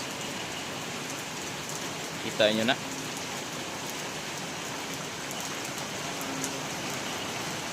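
Heavy rain pours down in a steady, dense hiss that holds even and loud from start to finish. A short spoken phrase cuts in briefly partway through.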